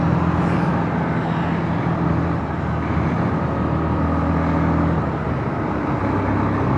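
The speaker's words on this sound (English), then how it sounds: "very refined engine" A 2026 Bajaj Pulsar 150 motorcycle cruises through city traffic in top gear, its engine giving a steady, smooth, low drone under constant road and wind noise, loud and close, with no throttle blips.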